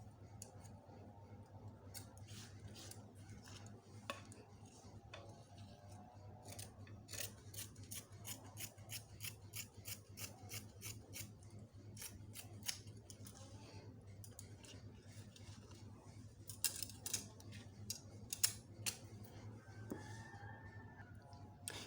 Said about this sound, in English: I'm going to cut along the line marked here.